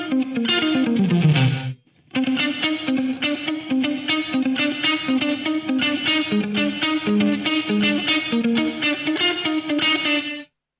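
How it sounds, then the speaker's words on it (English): Gated reverb from a Digitech DSP128 rack effects unit on distorted electric guitar, a dense chordal riff playing steadily with a brief cut near the start, the reverb tail chopped short. "Number 4 is a gated reverb."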